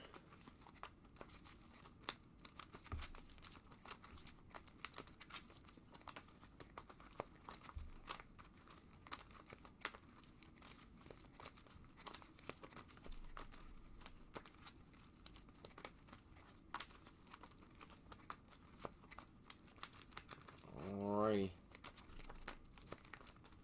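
Soft crinkling and crumpling of a trading card pack's plastic wrapper continues throughout at low level, with faint talk in the background.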